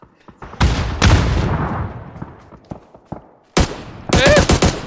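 Gunfire and explosions rattle through a bombing zone in a shooter video game: sharp bursts of automatic fire and booming blasts, loud and close, separated by brief lulls with scattered single shots.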